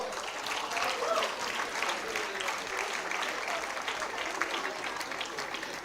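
Sustained applause from a large audience at a university convocation ceremony in Mumbai, a dense, even wash of many hands clapping that holds steady from start to finish.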